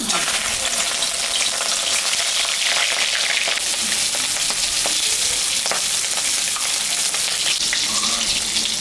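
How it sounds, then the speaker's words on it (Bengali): Steady, crackling sizzle of salted, turmeric-rubbed magur catfish frying in hot mustard oil, continuous and close, with occasional faint clinks and stirring. "এখন আমি সর্ষের তেল দেবো মাছটাকে ভাজি"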